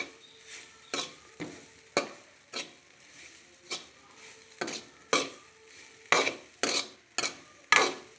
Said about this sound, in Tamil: நெக்ஸ்ட் இப்போ நல்லா மிக்ஸ் பண்ணிக்கலாம்.